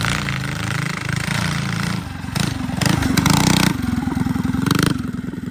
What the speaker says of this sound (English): it's a solid mini bike